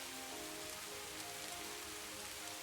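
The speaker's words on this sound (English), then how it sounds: "The sound of rain falling against the window is one of my favorite things." Steady rain falling against a window, a dense, even patter with a constant hiss, continuous and fairly soft, with faint tonal background sound underneath and no voices.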